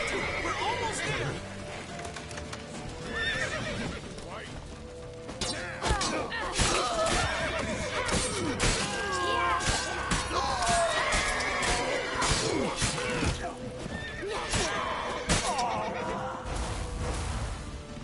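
A horse neighs and whinnies amid galloping hooves and crashing commotion, with urgent voices shouting over the busy, continuous din throughout.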